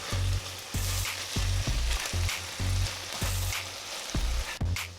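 Beef chunks sear in a hot pot for stew, a loud close sizzle that swells and drops in repeated bursts as pieces are turned and stirred, with no voices.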